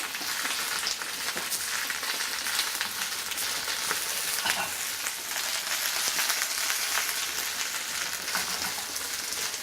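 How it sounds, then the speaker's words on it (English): Vegetables frying in hot oil in a pan, with water in them making the crackle louder than usual; a dense, steady sizzle with sharp pops runs throughout, close and fairly loud, with no talking. "Just going to hear some crackling because the oil is going to interact with the water inside it"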